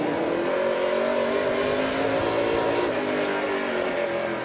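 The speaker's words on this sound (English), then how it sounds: "Riding on board with Brett Taylor in the number 3 Fast Eddie Speedwear machine" NASCAR Pinty's Series stock cars racing on track, heard as a steady, loud engine drone from on board a car, holding pitch with slight shifts and no voices.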